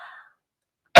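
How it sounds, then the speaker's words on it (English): A single short, sharp cough lands close and loud at the very end, after a brief faint fragment of sound and a moment of silence. "I'm going to cough."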